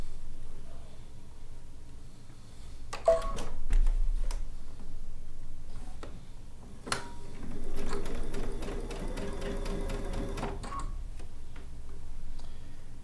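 A sewing machine stitches down the side of a piece of fabric, with a fast, even mechanical ticking that runs for a few seconds in the middle amid quieter room sound before and after.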